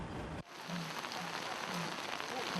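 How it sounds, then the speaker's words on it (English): Strong monsoon rain falling on a village where residents build a drainage system, a dense, even hiss of rain on surfaces that starts after a brief cut and runs steadily, without speech. "Strong monsoon rain isn't stopping these residents in this Saemaul pilot village from constructing a drainage system"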